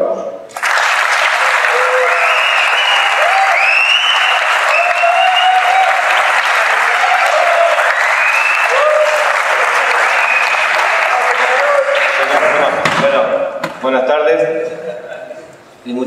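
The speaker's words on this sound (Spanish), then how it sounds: "un fuerte aplauso" Loud, sustained applause from an audience fills the room for about twelve seconds, then fades out into scattered clapping.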